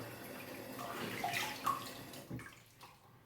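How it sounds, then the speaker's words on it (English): Water running over a dog during a grooming rinse, a soft continuous splashing spray with a few louder splashes, fairly quiet and without talk. "quick rinse down"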